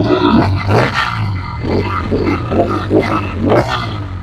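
A Bajaj Pulsar motorcycle engine running at idle, a deep uneven throbbing close by with the revs rising and falling a few times.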